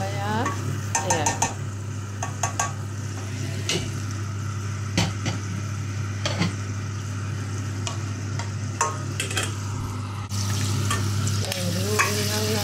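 Beef and rice stirred in a frying pan, a steady sizzle beneath repeated scraping and clinking of a utensil against the pan, close and fairly loud.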